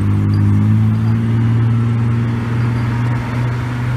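A Hino RN bus engine drones loud and close as a low, steady rumble that hardly changes, heard alone.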